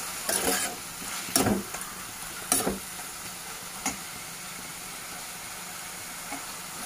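Tomato and onion mixture for paneer kofta gravy fries in a pan over a flame, a low steady sizzle broken by several sharp bursts of stirring and scraping, close and with no talking.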